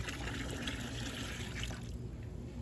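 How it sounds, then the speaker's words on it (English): Water runs and trickles steadily into a pesticide mixing bucket as it is rinsed, a continuous close splashing flow that thins out near the end. "Okay, rinsing the mother bucket."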